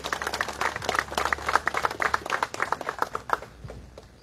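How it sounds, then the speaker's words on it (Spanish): A small crowd claps in a brisk, scattered burst of applause that thins out and fades after a few seconds. "Fuerte los aplausos para la señora Lidia."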